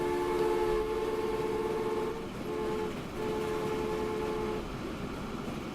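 Trains rolling in the Transport Fever video game: a continuous rumbling rail drone topped by steady horn-like tones that break off and resume a few times, fairly loud and unbroken by talk.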